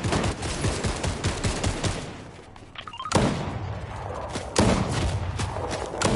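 Rapid bursts of gunfire in the Fortnite video game, dense overlapping shots and thuds crackling through most of the stretch, with a brief lull midway before the firing picks up again.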